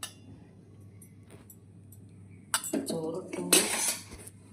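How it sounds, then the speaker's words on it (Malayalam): Hot cooked rice is spooned onto a plate: soft scraping and a few clinks of metal spoon against the plate, close by, near the end of a quiet stretch. "കുട്ടന് ചോറിടുകയാണ്"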